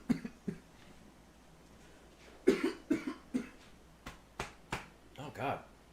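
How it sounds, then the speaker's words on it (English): A man coughs repeatedly in short, close, dry bursts, several in a cluster and then a few spaced coughs over a quiet background. "I don't know why I'm coughing so much today."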